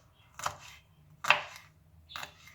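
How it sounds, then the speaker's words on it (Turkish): Three separate knife chops through bell peppers on a cutting board, evenly spaced and fairly quiet, each a crisp thunk against an otherwise silent background. "Bu şekilde saplarını aldıktan sonra şu büyüklükte doğruyorum."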